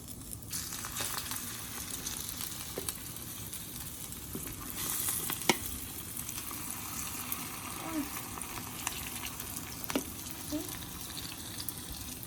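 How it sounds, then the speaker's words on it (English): Kookoo egg mixture sizzling in a hot pan while being stirred, a steady close hiss of frying with faint scrapes and occasional clicks of the utensil. "Oh, it's sizzling, so it's time to add the rest of our mixture"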